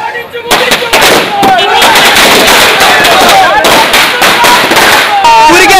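Rapid, loud firecrackers burst in dense, irregular volleys, crackling continuously with sharp pops, while voices shout in the background of a crowded village celebration of a Santosh Trophy football win.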